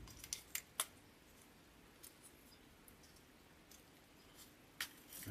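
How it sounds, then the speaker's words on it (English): Scissors snip a price tag off a craft wreath daisy bundle with several quiet, sharp clicks, some in quick pairs, spaced over a few seconds in a hushed room. "Cut that tag off."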